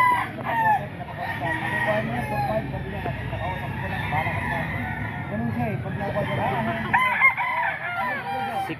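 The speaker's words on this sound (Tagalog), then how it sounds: "Ayan mga boss, mga manok to ni Boss Tony." Several roosters crow loudly, with clucking around them, at a busy chicken market in Grotto, Philippines. Someone talks between the calls amid farmyard noise.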